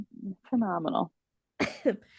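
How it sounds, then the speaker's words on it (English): A few short, rough coughs and throat sounds come close up in separate bursts with quiet gaps between them. "You're gonna hear some coughs."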